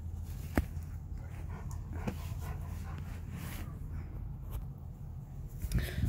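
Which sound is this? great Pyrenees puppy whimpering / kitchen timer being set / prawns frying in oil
great Pyrenees puppy whimpering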